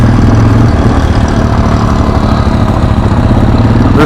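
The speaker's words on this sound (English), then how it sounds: "This thing's just idling up here. Just barely above idle. This thing's running great." A vehicle engine running just above idle, a loud, close, continuous low rumble with a steady rhythmic chug throughout and no talk.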